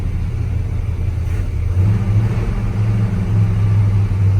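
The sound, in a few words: farm truck engine revving as gas is feathered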